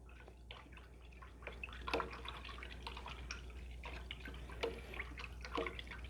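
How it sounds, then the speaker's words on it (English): A paintbrush is swished and rinsed in a water jar during acrylic painting, giving soft intermittent sloshes and drips with small taps against the container, close and fairly quiet. "Rinse your brush out."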